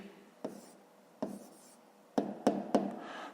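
Pen or marker strokes writing down a math answer on a board or page, with five distinct taps and scratches spaced irregularly, close and fairly quiet, with no talk.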